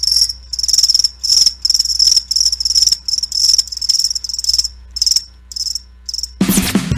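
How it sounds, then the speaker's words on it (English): Loud, close crickets chirp in rapid repeated trills with brief gaps, ending in an abrupt transition to a different sound. "That's right, crickets."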